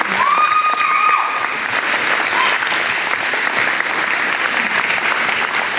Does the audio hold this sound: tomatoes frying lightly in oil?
no